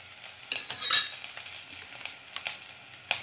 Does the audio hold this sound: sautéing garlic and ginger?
yes